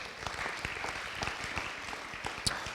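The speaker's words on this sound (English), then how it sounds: "So let's have a round of applause." Audience at a high school football awards banquet clapping steadily throughout, a dense patter of hands with a few sharper claps standing out near the end.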